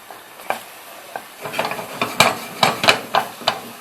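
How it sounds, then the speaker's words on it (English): Curry paste starts to fry in a cast iron pan, a light sizzle broken by a series of sharp scraping and tapping stirs, several quick strokes in a loose rhythm, close by with no talk. "It's now starting to fry now, which is how we want it."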